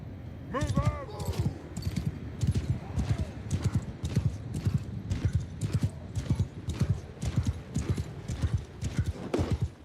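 Horses' hooves clip-clop in a steady, loud rhythm during a fantasy battle in the Old Realms video game mod, with a whinny near the start and a voice heard over it.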